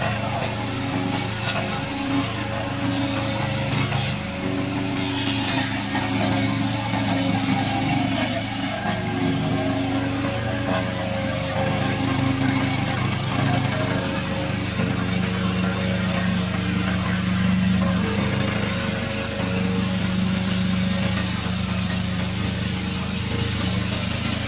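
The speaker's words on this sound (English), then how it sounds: "Our lawnmower will make you enjoy mowing." A small remote control lawn mower engine drones steadily for a long stretch, a medium-pitched idling hum with faint mechanical rattles, heard from close by.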